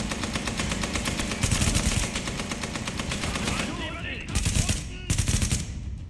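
Rapid bursts of automatic gunfire in the video game Tom Clancy's The Division rattle continuously, with a few louder volleys near the end, loud and close.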